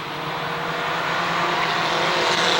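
Mini stock race cars roar together on an oval track at Waterford Speedbowl, a dense continuous engine din swelling slightly as the pack accelerates back to speed after a caution.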